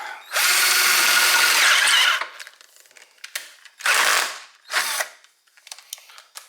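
A cordless drill in hammer mode whirs loudly for about two seconds up close, followed by two shorter bursts and some light clicking and handling sounds.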